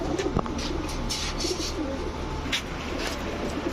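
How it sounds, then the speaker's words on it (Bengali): Pigeons coo softly and steadily from a pair of green-necked Giribaz high-flyers, male and female, with light chirps and faint background rustle throughout. "এখন দেখাবো বুট ঠোঁটের এক জোড়া হাই ফ্ল্যাশ সবুজ গলা গিরিবাজ কবুতর"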